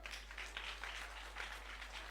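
Children clap together at a camp opening ceremony in Central Sulawesi, a faint, brief, uneven patter of many hands.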